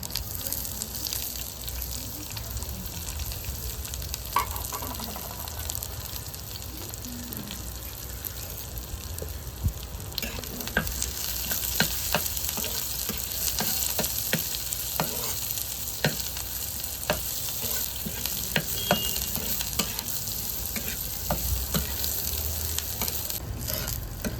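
Chopped small onions and dried red chillies being sautéed in a pan for ragi adai, a steady close sizzle with frequent scraping stirs, continuous and without talk.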